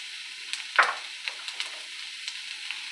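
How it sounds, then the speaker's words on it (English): Eggs and onions hitting a hot, slightly smoking skillet give a steady, fairly quiet sizzle, with one sharper burst as they drop in and a few small pops and scrapes after. "Put the eggs in. Put the onions in."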